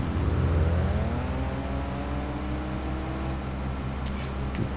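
Vehicle with a loud, unrepaired exhaust in Farming Simulator 25, a steady throaty rumble with a rising whine, close and continuous for a few seconds.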